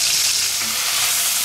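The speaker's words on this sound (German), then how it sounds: "In der Zwischenzeit tue ich das Gemüse ein bisschen anrösten, anbraten." Vegetables sautéing in a pan for bacon-bomb style false roulades give a steady, dense sizzle and frying hiss, close and continuous with no talk.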